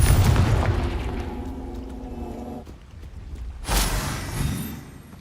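Confringo blasting spell explosions in Hogwarts Legacy, a rumbling boom fading out, then a second sharp burst followed by a lingering rolling blast.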